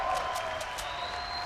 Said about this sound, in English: We got a round of applause here